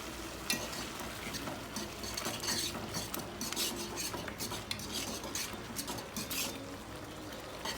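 Egg stirred into stewed eggplant in a frying pan: steady scraping and clinking of a utensil against the pan over a continuous sizzle, close and moderately loud, with no talking.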